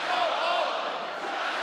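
College basketball crowd in the arena at UNLV versus Utah State, a dense continuous roar of many voices with a faint rhythmic chant riding on top, steady and loud throughout.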